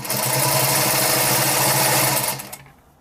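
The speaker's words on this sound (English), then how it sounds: "Sewing along that fold." A sewing machine runs steadily, stitching along a folded fabric edge for a bag made from old pants, its fast mechanical whir loud and close before cutting off abruptly near the end.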